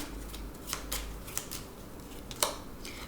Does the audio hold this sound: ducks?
no